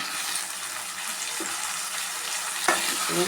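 Tomatoes and eggplant sauté in a pan, giving a steady, hissing, water-like sizzle close up, with a couple of soft stirring scrapes and no voices.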